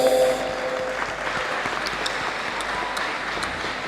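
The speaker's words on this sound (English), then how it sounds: "Let us give him another round of applause." An audience applauds at a university graduation congregation ceremony in a great hall, a dense steady clatter of many hands, fairly loud and sustained, with no speech over it.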